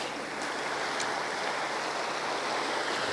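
The narrow, fast-flowing water of the Beaverhead River rushes in a steady, loud, continuous wash close by, heard alone without talking.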